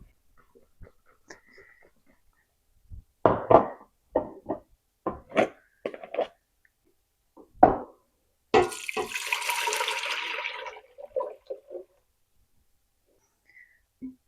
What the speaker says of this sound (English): we're just going to pour this into our pan and start getting it heated up